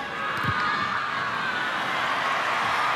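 A rugby match crowd cheering in a stadium, a broad steady roar of many voices that swells slightly and holds throughout.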